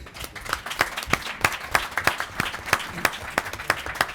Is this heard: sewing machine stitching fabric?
no